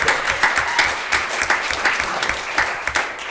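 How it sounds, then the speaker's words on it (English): Audience applause at a 2019 East Metro education event, a steady wash of clapping from a crowd with dense overlapping claps throughout. "Give him a big round of applause."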